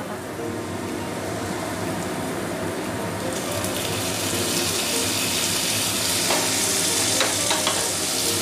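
Onions sizzle steadily in a hot pan for a chicken curry with taro roots, a continuous bright frying hiss that grows louder partway through, with occasional stirring scrapes and no talk.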